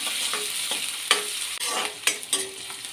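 Cumin, curry leaves and onion sauté in hot oil with a dense, bright hiss and a few scraping stirs of the spatula, loud and close, and no voices.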